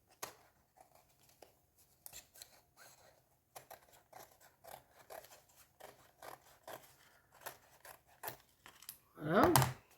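Scissors snip around a sock in a run of short, close, crisp cuts at an uneven pace, ending in a louder rustling scrape.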